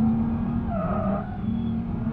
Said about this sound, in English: I was barely on the brakes there and they locked up.